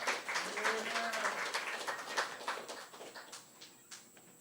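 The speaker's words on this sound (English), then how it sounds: "Please give a warm applause for Damian Rucci." An audience at a poetry reading at Beyond Baroque in California claps for a poet. The applause is a burst of many hands that rises quickly and then thins out and fades over a few seconds.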